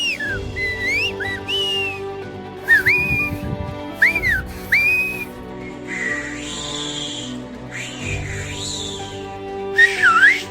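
Silbo, the whistled language of Tenerife, sounds as sharp, gliding whistled phrases rising and falling in pitch, several bursts separated by short gaps over a low steady background hum.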